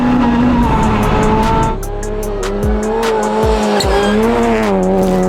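A 380 HP Mitsubishi Mirage rally car runs hard on a track, its engine loud and close with steady high revving, a shift dip partway, and brief tire squeals through the corners.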